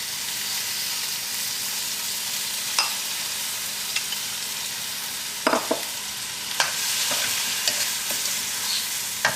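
Tomatoes frying in a pan for tomato rice, with a steady sizzle and a few sharp scrapes and clatters from stirring, close and moderately loud, with no talking.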